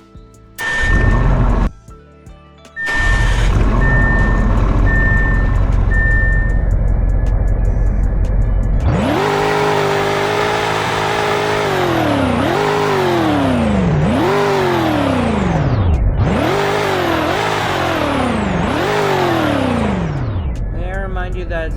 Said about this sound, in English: That is the loudest car I've ever heard on this video.